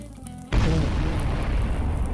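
A sudden deep bomb explosion boom in Garry's Mod erupts after a brief quiet moment, followed by a loud rumbling roar that keeps going.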